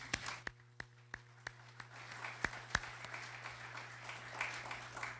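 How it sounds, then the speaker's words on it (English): Audience at a city State of the City event clapping, starting with sparse, distinct claps that thicken into scattered applause before fading, heard from a distance in a quiet hall with a steady background hum. "Please give yourselves a round of applause."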